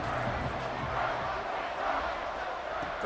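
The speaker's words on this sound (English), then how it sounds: "3rd down, and the crowd really getting into it." A football stadium crowd roars on third down, a dense continuous wall of cheering and shouting from many fans that holds steady at full volume throughout.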